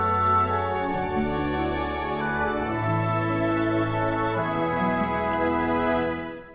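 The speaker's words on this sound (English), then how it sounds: "I love the warm tone of the French horn" Warm French horn lines within an orchestral intro, sustained and melodic over shifting held chords, full and steady before fading out at the end; no speech.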